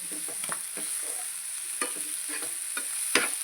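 Goat meat curry with chili powder being stirred in a pan, a series of close scraping strokes and soft clacks of a spoon over a steady frying hiss, with no talk.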